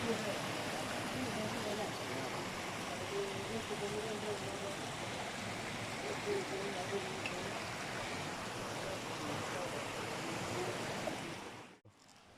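A jungle waterfall pours in a steady, dense rush of falling water, continuous and fairly loud for the whole stretch before cutting off abruptly at the end.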